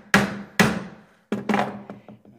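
Chisel chopping a mortise in wood by hand: four sharp, close strikes, the first two hard and isolated, the later ones followed by lighter ringing taps and scraping as the blade is levered back along the slope.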